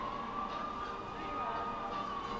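Police car siren in Grand Theft Auto V wails steadily, its tone rising and falling at moderate loudness over a continuous background of game noise.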